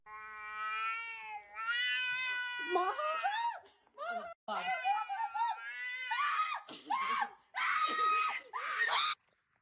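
A cat yowling and caterwauling in long, drawn-out wails, a series of loud, close, pitched cries broken by brief pauses.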